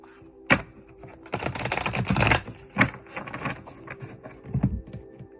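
Tarot cards being shuffled up close: a few quick riffling bursts and softer flicks and taps, with short pauses between, and no one talking.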